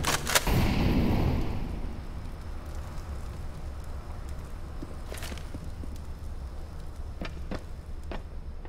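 An incendiary grenade bursting in the Counter-Strike game, a loud, close whoosh of flame that fades into a steady crackling burn, with a few sharp clicks and distant impacts over it.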